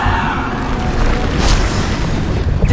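A Bombarda spell explosion in the video game Hogwarts Legacy lets out a loud, sustained booming roar with a sharp burst in the middle.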